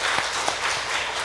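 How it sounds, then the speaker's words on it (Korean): A congregation applauds in church at a Sunday worship service, honoring the choir after a hymn; a dense, steady wash of many hands clapping fills the room briefly and evenly. "박수하겠습니다."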